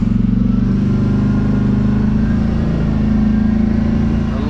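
Kawasaki Brute Force 750 ATV on lugged big-grip tires rolling slowly over pavement, a steady loud engine drone with a low pulsing rumble and a faint clatter throughout.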